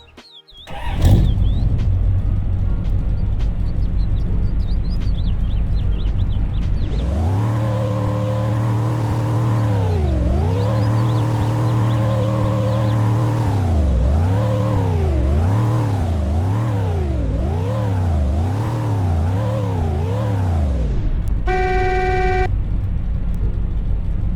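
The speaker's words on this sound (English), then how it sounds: "here is the sound for the 1967 Rolls-Royce Silver Shadow" A 1967 Rolls-Royce Silver Shadow engine in the video game Greenville starts, idles, then revs up and down repeatedly in smooth rising and falling sweeps, ending with a short electronic tone.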